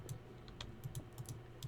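Rapid clicking and clacking from a noisy computer mouse and an even noisier keyboard during Minecraft play, with irregular close taps and clicks over a quiet background.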